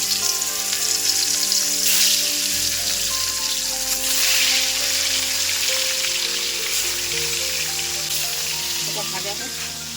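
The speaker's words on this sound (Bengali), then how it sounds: "এবারে মাছ ভেজে নেব।" Pieces of katla fish frying in hot oil, a dense continuous sizzle with crackling spatter, steady and close, with some low background hum and tones underneath.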